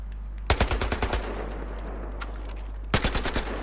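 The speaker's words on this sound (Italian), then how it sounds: "Ma perché il rumore è lo stesso dell'UMP5 della K?" UMP5 submachine gun fire in the video game Battlefield Hardline, two loud rapid automatic bursts close by, separated by a quieter pause.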